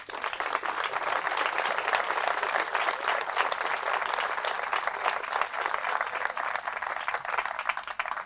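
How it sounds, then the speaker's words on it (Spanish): A church congregation bursts into strong, sustained applause for the Lord, dense clapping from many hands filling the room steadily for the whole stretch without letting up. "Fuertes aplausos al Señor."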